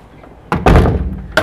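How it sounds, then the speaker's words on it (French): A door is handled up close: a sharp knock-like click, then a heavy thudding rattle as it swings, and another clunk shortly after, with faint room noise between. "Attendez, j'ouvre la porte."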